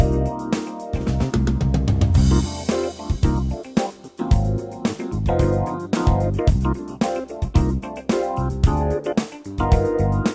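Dense electronic music from a Yamaha MOTIF XS7 synthesizer in performance mode, with four fast, interlocking arpeggiator patterns and a driving pulse, loud and continuous throughout.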